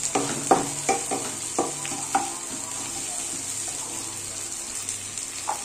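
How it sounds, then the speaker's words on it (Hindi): Chili and onion fry in a pan with a steady hiss of sizzling, while several sharp scraping stirs land in the first couple of seconds before the sizzle carries on alone. "और चिल्ली को थोड़ा पकने दीजिए, थोड़ा लाल होने दीजिए।"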